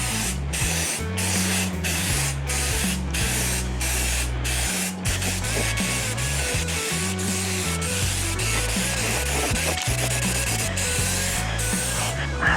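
An aerosol spray can hisses in bursts as a final coat of black paint goes onto bike parts, long loud sprays broken by brief pauses, close to the microphone with a low hum underneath.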